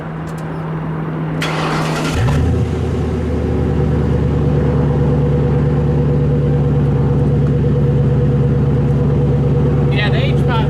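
A Mercury Grand Marquis V8 with a new exhaust rumbles loudly close by, settling from a rev into a deep, steady idle that stays throaty and continuous throughout.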